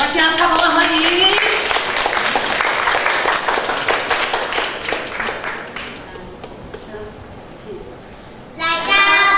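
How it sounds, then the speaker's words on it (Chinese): Audience applause welcoming a Taiwanese-language theatre troupe at a Taiwanese singing competition, a dense burst of clapping that gradually thins and fades before a voice returns at the end. "咱用大声拍掌欢迎"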